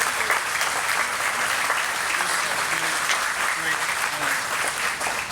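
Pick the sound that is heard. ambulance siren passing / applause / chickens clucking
applause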